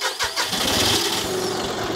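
A tractor engine cranks and catches, then settles into a steady, loud running rumble close by, with no talk over it.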